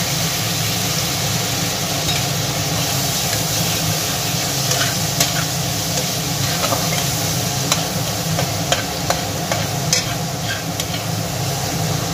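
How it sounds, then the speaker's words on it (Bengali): Garlic and green chilli paste fries in a pan with a little sugar over tempering spices, sizzling steadily and close up with occasional stirring scrapes, no voices. "রসুন আর কাঁচা লঙ্কাটা একটু ভাজা হয়ে গেলে তাতে আমি পেঁয়াজ কুচিগুলো দিয়ে দেব"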